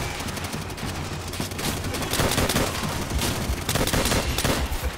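Gunfire in Call of Duty: World at War, a dense, continuous fusillade of rifle and machine-gun shots, loud and near, rattling throughout without a pause.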